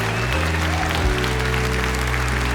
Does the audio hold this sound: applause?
yes